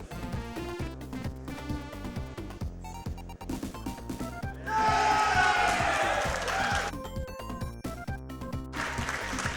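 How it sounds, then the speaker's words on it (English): A crowd at a Summer Games Done Quick speedrun event cheers loudly for a few seconds, rising over game music with sharp beats and then falling back as the music carries on. "you guys hear the cheering"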